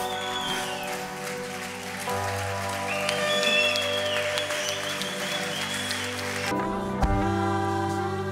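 Sustained applause from a church congregation during an evangelical service, a dense crowd clapping over steady organ-like music that continues throughout, with a brief swell midway.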